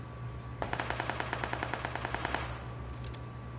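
Rapid automatic AK rifle fire in the PUBG battle royale game, a steady burst of about twenty evenly spaced cracks lasting roughly two seconds, loud and close, followed by a brief faint rattle.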